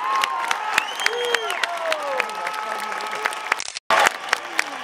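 Outdoor festival crowd in a Moscow garden at a Georgian celebration applauding and cheering, with whistles and shouts over steady clapping, briefly dropping out before surging back loud.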